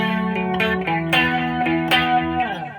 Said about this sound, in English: then the flange sound is a bit more pronounced